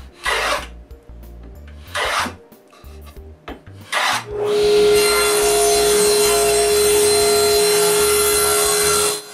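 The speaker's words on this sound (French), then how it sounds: "Je fignole la coupe à varlope." A hand plane (varlope) smooths a cut groove in a wooden board, with a few short rasping strokes at first, then one long, loud, continuous shaving pass at close range.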